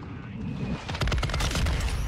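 Rapid gunfire in Modern Warfare 2 bursts out after a short lull, a dense string of sharp shots over a low rumble, with a voice speaking during it.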